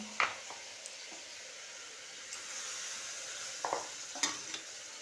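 Raw onion and ginger-garlic paste frying in hot oil, a steady soft sizzle with a few brief stirring clicks and scrapes, close and fairly quiet, no voices.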